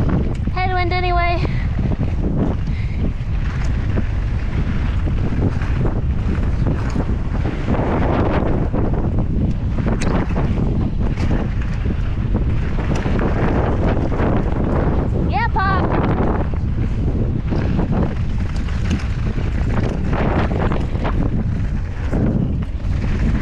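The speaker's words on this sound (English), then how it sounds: "Headwind anyway." Strong headwind roars across the microphone as a mountain bike descends a bike-park trail, a constant loud rush throughout, with brief voices breaking through now and then.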